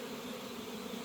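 Honey bees buzz at the hive with a soft, continuous droning hum, faint and steady with no voices.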